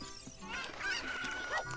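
Chickens in the video game Ocarina of Time cluck and squawk in short, faint, honking bursts, with game sounds in the background.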